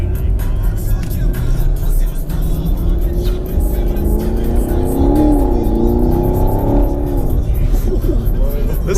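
A Chevrolet Camaro SS pulls hard under launch-style acceleration on the street, its engine note loud and continuous from inside the cabin, rising in pitch over several seconds with steady road and wind roar beneath.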